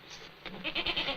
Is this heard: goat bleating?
yes